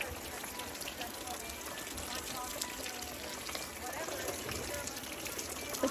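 Heavy rain pours steadily onto a small camper while camping in Oregon, a dense even hiss drumming on the roof with no letup throughout.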